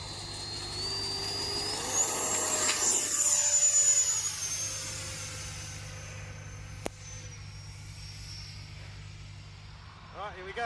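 An electric ducted fan model jet spools up for takeoff with a loud, rising high-pitched whine that peaks and then fades as the aircraft moves away, with a sharp click partway through and a constant low hum beneath.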